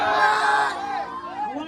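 A crowd whoops and shouts at the Panvel Koliwada T-shirt opening celebration. A loud, voiced cheer comes first and then thins into scattered calls within a second or two.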